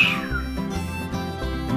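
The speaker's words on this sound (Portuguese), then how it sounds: "em seguida deu um assobio comprido" A long, drawn-out whistle in a Portuguese-language children's audiobook, holding a steady tone over a soft musical backing with no talking.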